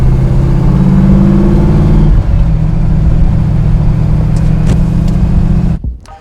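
Hot rod car engine running loud and close, a deep rumbling idle with a rev that rises and then settles back before cutting off abruptly at the end.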